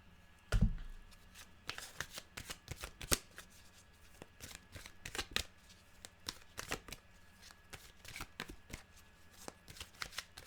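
Animal oracle cards are shuffled by hand in a quiet room, a long run of crisp, irregular riffles and snaps that come close together in quick flurries, with no talking.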